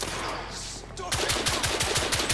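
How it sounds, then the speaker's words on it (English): Enemy guns open fire in The Order 1886, a rapid train of loud shots bursting in after a brief quieter lull and hammering on rhythmically to the end. "Oh, they're shooting at me!"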